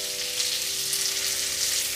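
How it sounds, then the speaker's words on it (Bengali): Potato and pumpkin pieces fry in hot oil for a Bengali mixed-vegetable dish, making a steady close sizzling hiss over a faint constant hum for a couple of seconds. "এবার আলু আর কুমড়ো একটু ভেজে নিয়ে তারপরে আমি ডাঁটা দেব"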